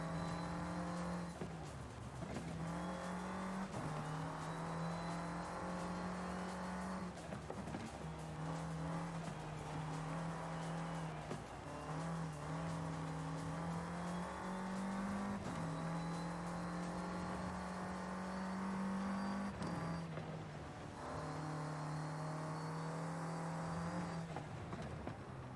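A sports car in Forza Horizon 5 S1 class racing revs and accelerates out of a corner, its loud, steady engine drone rising in pitch and dipping briefly at gear shifts over the full stretch.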